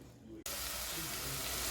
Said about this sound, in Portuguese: Aqui nessa panela eu já coloquei 2 colheres de óleo e o alho. E agora eu vou deixar fritar.